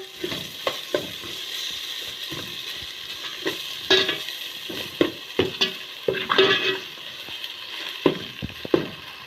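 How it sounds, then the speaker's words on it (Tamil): Ginger and garlic sauté in a pan for chicken biryani, a low steady sizzle with frequent metallic scrapes and taps of a spoon stirring, close and fairly quiet, no voices. "அது வரைக்கும் நல்லா வதக்குவோம்."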